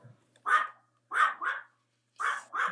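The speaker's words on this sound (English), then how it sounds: "I don't know why Oscar's barking" A dog barks in quick pairs, five sharp barks in three bursts with brief pauses between them, at moderate distance with no talking.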